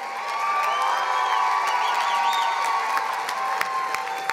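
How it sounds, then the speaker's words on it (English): A commencement crowd cheers and applauds graduates of a real estate development degree, with whoops and shouts ringing over steady clapping in a large, echoing hall, sustained and loud. "Let's give a round of applause to the graduates of the Bachelor of Science in Real Estate Development."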